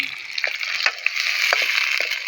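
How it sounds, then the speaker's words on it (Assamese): Onions frying in a pan for a chicken dish give off a steady close sizzle, broken by a few sharp stirring scrapes, with no voices. "পিঁয়াজটো এতিয়া বঢ়িয়াকৈ ভাজি লওঁ"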